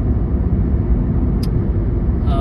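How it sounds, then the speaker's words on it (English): A car driving on a road toward town on a sunny day, heard from inside as a steady, continuous low engine and road rumble with no pauses or talk. "But I'm just driving to town."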